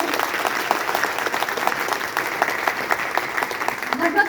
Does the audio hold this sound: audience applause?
yes